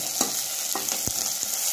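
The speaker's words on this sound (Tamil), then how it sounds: "இதை வதக்கி விட்டுக்கலாம்." Curry leaves and garlic sautéing in hot oil in a pan, a continuous sizzle broken by several crisp stirring scrapes at irregular intervals.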